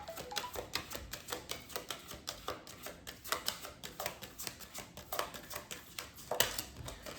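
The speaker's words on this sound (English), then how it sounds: "I'm gonna cut the deck" Tarot cards being cut and shuffled by hand, giving a quick run of crisp, papery flicks and taps in an irregular rhythm, close and fairly quiet with no talking.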